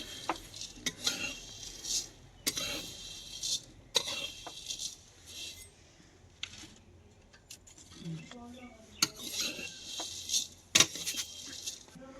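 Vermicelli is roasted and stirred in a karahi on a stove, with irregular metallic clinks and scrapes of a spoon against the pan and a faint sizzle, while a voice talks.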